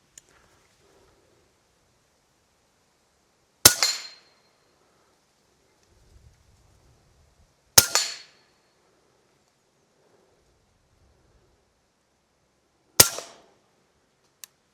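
A Huben GK1 air rifle fires three sharp, loud shots spaced several seconds apart, each a crisp crack with a short ringing tail, in an otherwise quiet setting.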